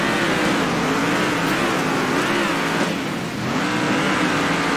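A race car engine held at full throttle in the Circuit Superstars racing game, a loud, steady, continuous high-revving drone with slight pitch wavers and a brief dip near the end, with no talking.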